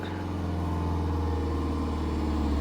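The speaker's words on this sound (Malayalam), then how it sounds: "എല്ലാ വാഹനങ്ങളും എൻജിൻ ബ്രേക്കൊക്കെ ഇറങ്ങി വരുന്നത് അത് അത്രയും സൗണ്ട് കേട്ടെ" Vehicles descend the sharp Laha bend on the Sabarimala road using engine braking, making a continuous low engine drone with a steady mechanical hum, fairly loud and unbroken, with no talking.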